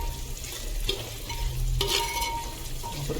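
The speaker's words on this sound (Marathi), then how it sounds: "ढवळून घेऊया." Chicken is stirred in a clay pot for traditional matka chicken, a soft background sizzle with a few scraping strokes of the spoon at a moderate, close level.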